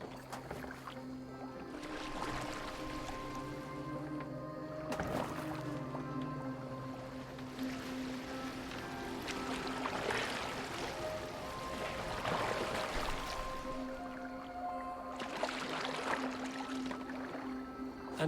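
Oars splash as a boat is rowed in Assassin's Creed Valhalla on PS5, with soft water strokes recurring every few seconds under sustained background music and ambient tones.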